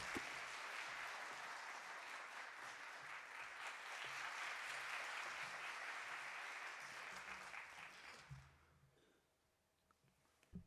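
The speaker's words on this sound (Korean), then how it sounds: "우리 전도사님 나오실 때 큰 박수로 환영해 주시면 감사하겠습니다" A church congregation at a Korean Friday Holy Spirit service applauds to welcome the evangelist to the front: a sustained wash of clapping that holds steady for about eight seconds, then fades quickly into near silence.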